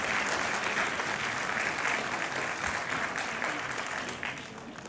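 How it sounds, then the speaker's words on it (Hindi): An audience claps loudly and continuously at a CRPF women's event, a dense, steady wash of applause that eases slightly toward the end. "तो जोरदार तालियां मैम के लिए भी।"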